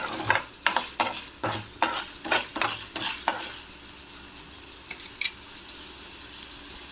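Urad dal frying in a little hot oil in a pan, stirred with a spoon in a quick run of clattering scrapes over a steady close sizzle, then fading to a quieter fry with a couple of isolated taps.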